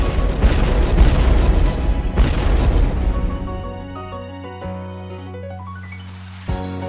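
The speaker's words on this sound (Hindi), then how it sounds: "तो ये कर देते हैं शहर के बाहर विस्फोट लगा के डायनामाइट।" Dynamite blasts go off outside a small town in an anime film, a loud, rumbling boom that rolls for several seconds before fading under swelling orchestral music.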